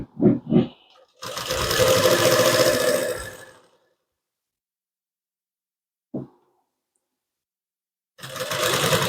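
A sewing machine stitches the neckline of a blouse in short, close bursts. A few quick taps lead into a steady run of stitching, then a pause, a single brief knock, and another burst of stitching begins.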